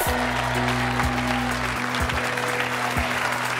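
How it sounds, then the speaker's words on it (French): A French television studio audience applauds a guest being welcomed onto the show, with dense steady clapping that fills the short span at even loudness, over low background music tones. "qu'on peut applaudir très très fort"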